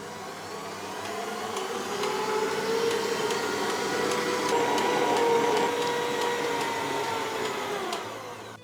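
A powerful kitchen stand mixer runs steadily while whipping Christmas cake icing, a loud continuous motor whir with a faint rhythmic ticking, winding down at the end.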